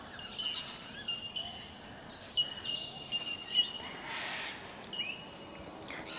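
Birds chirp along a riverside walking track, several short bright calls scattered over a quiet background, mostly faint with a few clearer tweets near the middle.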